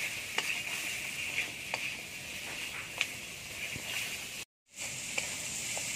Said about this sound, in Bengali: আলু ঝিঙে ভালো করে ভেজে নিতে হবে।